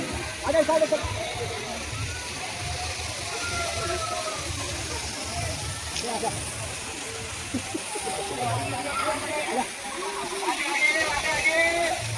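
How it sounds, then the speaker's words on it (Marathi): Rasulpura waterfall in Chhatrapati Sambhajinagar, Maharashtra pours in a continuous broad rushing wash, heard at a moderate distance beneath voices and chatter from a crowd of visitors. "बघा मित्रांनो रसलपुराचा धबधबा."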